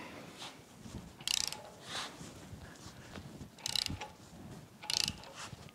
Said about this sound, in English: Now let's reach in, attach our puller,